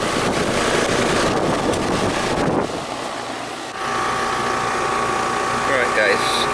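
Scroll compressor of a 3.5-ton heat pump running outdoors, a loud steady mechanical whir with rattling texture and some wind buffeting on the microphone.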